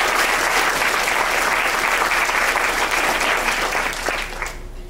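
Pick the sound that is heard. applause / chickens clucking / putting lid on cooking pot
applause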